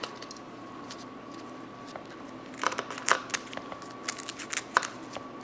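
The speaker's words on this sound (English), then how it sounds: "I think I'm going to cut these with scissors instead of trying to use a knife on them." Several sharp snips and crisp clicks of scissors cutting through dried chilies, irregular and close, with a faint steady hum underneath.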